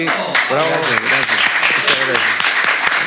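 Studio audience applause for a guest at the close of a Spanish-language talk show, a dense burst of clapping that runs the whole time, with a voice speaking briefly over it.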